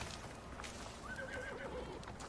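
Horse neighing in the survival game ICARUS, a high whinny rising and falling over about a second amid steady outdoor ambience, with no clear hoofbeats standing out.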